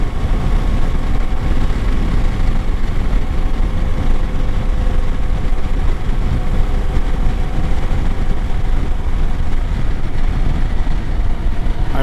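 Kawasaki Versys 300 motorcycle engine cruising on a highway, a steady, loud broadband drone with constant engine hum and wind rush that holds evenly for the whole stretch, with no talking.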